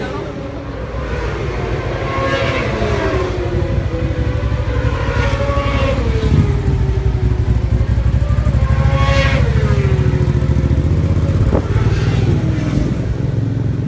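Racing cars heading out onto the Brands Hatch circuit for a race, loud continuous engine drone with rising and falling revs as they pass, with someone talking over it.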